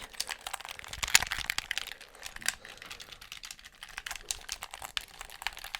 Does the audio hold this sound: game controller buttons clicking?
yes